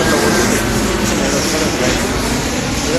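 An airplane flies low overhead near Castle Island in Boston, producing a loud, continuous broadband roar that fills the whole moment.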